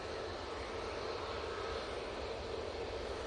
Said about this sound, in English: You have a 2 Dreamliner over here.